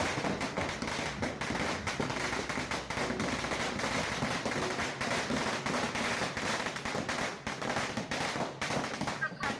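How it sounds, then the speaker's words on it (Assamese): Firecrackers burst in a rapid, continuous string of sharp cracks at a wedding as the groom arrives, loud and close, with voices heard faintly amid the noise. "এয়া দৰা অহা সময়ত এনেকুৱা ধৰণৰ পতকা ফুটাইছে"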